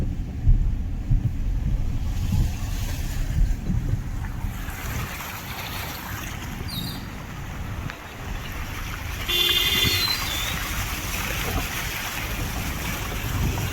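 A car swishes and churns through deep floodwater in Kharar, a continuous wet rushing with splashes that swells as it passes nearby, mixed with rain and wind.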